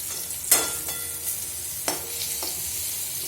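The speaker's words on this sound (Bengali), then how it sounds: "এই পটল ভাজতে ভাজতে, এই গরমে রান্নাঘরে দাঁড়িয়ে থাকো" Pointed gourd (potol) sizzles steadily in a hot pan, a continuous close hiss broken by a few sharp spatter pops and a soft stir.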